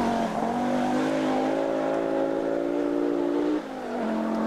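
Group B rally car engine racing on a Finnish stage, a sustained raspy drone holding steady pitch for several seconds, then dropping briefly and picking up again, somewhat distant and moderately loud.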